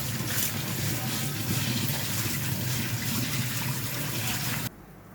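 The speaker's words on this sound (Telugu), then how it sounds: "నీళ్ళల్లో కడిగి ఆరబెట్టుకోవాలి" Murmura (puffed rice) is washed in water, giving a steady, close rush and slosh of water that stops abruptly near the end.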